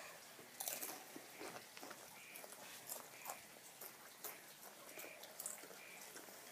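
Several people crunching and chewing Doritos chips close up, repeated crisp bites and chewing in an irregular rhythm with quiet background noise.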